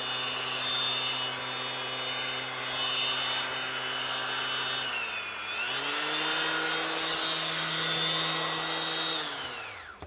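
A Ryobi 18V brushless random orbit sander with fan-driven dust extraction runs steadily with a loud, even whine, then briefly dips in speed and spins back up before winding down at the end, with no voices.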